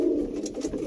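A pair of pigeons, a black-headed cock and a white-headed hen, coo in a short, close, throaty rolling burst with no other sound around it.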